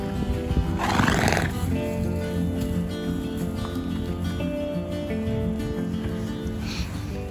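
Horses whinny and neigh amid steady barn or paddock ambience, with a loud burst early on, a quieter stretch of faint animal sounds, and another call near the end.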